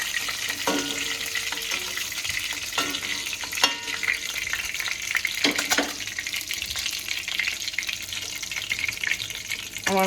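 Fish head frying in hot oil for a moong dal and ash gourd dish, a continuous close sizzle and crackle with a few sharp clatters of stirring and handling, and no one talking.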